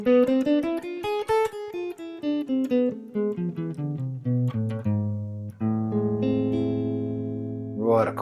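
A guitar plays an A harmonic minor scale note by note, descending steadily then ringing out on sustained lower notes, clear and close with no talking.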